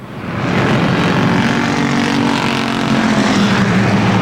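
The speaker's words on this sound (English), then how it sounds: "Bob Ship working over Jordan down the front straightaway into turn 1" Stock cars race on the Motordrome Speedway track, a loud continuous engine roar that swells in after a brief quiet start and holds steady throughout.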